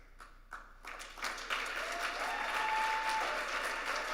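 An awards luncheon audience starts clapping with a few scattered claps, then builds into full, sustained applause of moderate volume that continues to the end.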